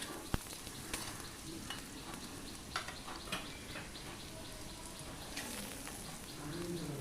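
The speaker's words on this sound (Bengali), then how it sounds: "এবার নাড়াচাড়া করে লাল করে আলুগুলোকেও ভেজে নিলাম।" Potatoes fry over a raised flame in a pan and are stirred until browned, giving a quiet continuous sizzle with occasional scraping clicks, while a pigeon coos faintly in the background.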